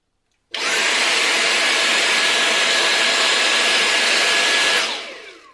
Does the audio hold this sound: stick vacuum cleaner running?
yes